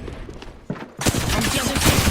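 Rapid automatic gunfire erupts in Apex Legends after a brief lull, a loud, dense fusillade of close shots that continues without pause.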